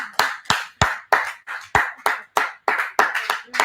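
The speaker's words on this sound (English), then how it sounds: "let's clap for her" Slow, deliberate rhythmic clapping at a youth summit, about a dozen sharp, evenly spaced claps close by, each ringing briefly, with no talking.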